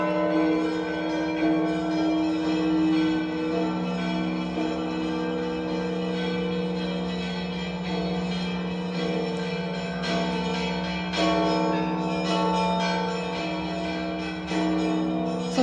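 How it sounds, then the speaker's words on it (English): Hand-rung church bells peal from the bell tower of the Novodevichy Convent in Moscow, a dense, continuous ringing of many overlapping tones with sharper strikes rising now and then, loud and steady throughout. "So there is a person there standing there who is ringing the bells on the bell tower."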